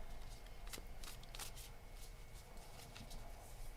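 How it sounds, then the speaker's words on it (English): A deck of tarot cards being deep-shuffled by hand: rapid, soft papery riffles and flutters in quick uneven bursts, close and fairly quiet, with no speech. "I'm going to do a deep shuffle of these cards."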